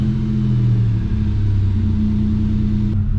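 The supercharged engine of a Pontiac 6000 wagon runs close by with a loud, steady, low idle rumble.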